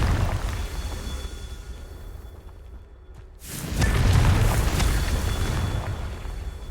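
Confringo fire spell blasting in the video game Hogwarts Legacy: a loud burst of fiery explosion arrives midway after a brief quiet gap, then a sustained crackling roar fades slowly.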